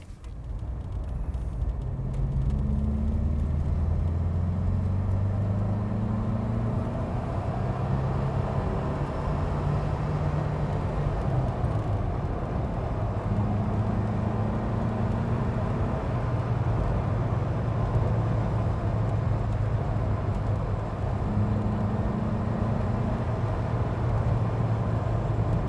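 Citroën CX 25 GTi Turbo accelerating, heard from inside as a steady moderate engine drone with a few gear-related pitch changes over about twenty-five seconds, and no voices.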